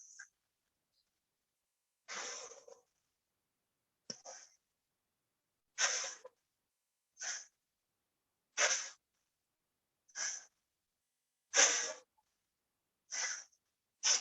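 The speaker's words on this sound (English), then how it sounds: "Inhale and exhale." Deep yoga breaths in and out, about nine separate breathy bursts spaced a second or two apart, close and fairly soft in an otherwise quiet room.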